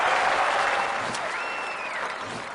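A crowd at a sporting venue in the London 2012 Olympic video game breaks into steady, dense applause that swells at the start and slowly eases off, with a faint whistle-like tone drifting through.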